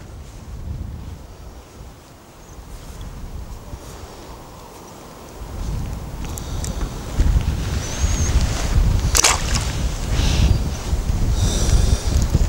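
Strong wind buffets the microphone in surging gusts, quieter at first and then roaring in heavy rushes over the second half.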